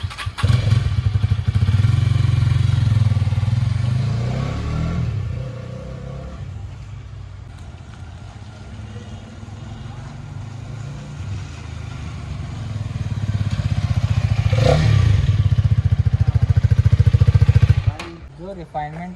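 Hero Karizma XMR motorcycle engine revving up close, a steady loud low rumble that rises twice to harder revs with a clattering thump, a quieter idle stretch between.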